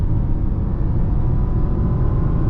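BMW E90 328i sedan under acceleration, a steady low engine rumble with road and cabin noise, even and continuous with no speech.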